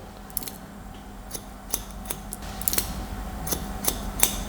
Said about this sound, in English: now I'm going to club cut or straight cut this